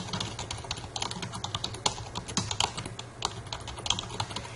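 Rapid clicking of keys on a computer keyboard, close and continuous with uneven bursts of taps as login details are entered.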